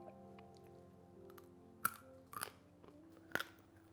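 A roasted parsnip is bitten and chewed close to the mic, with three sharp crunchy bites over quiet, soft chewing and a faint steady hum behind.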